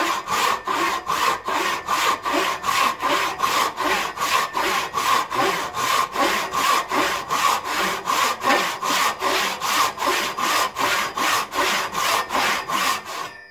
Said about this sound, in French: Parce que vous ne pourriez pas guider la scie.